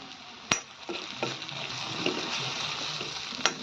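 Curry leaves, garlic and grated coconut frying in hot oil for a quick matki usal make a steady sizzle, with sharp spatters and a clink of utensils near the start and end.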